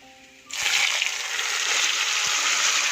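Garlic and a ground paste for beetroot sambhar hit a hot pan and start to sizzle. A loud, steady frying hiss sets in abruptly and continues with faint clinks underneath.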